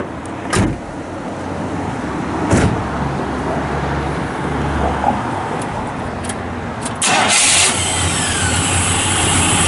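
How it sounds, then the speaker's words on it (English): A 1972 Chevrolet Monte Carlo starts with a brief crank, then its engine settles into a steady close idle with a couple of sharp clunks and a louder swell near the end. "Fires right up."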